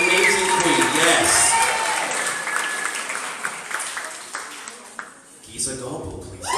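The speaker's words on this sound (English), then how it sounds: "give a big cheer for Ariana Silver!" A drag competition audience bursts into loud applause and cheering for a performer, the clapping strong at first and tapering off, with a host's voice speaking over it.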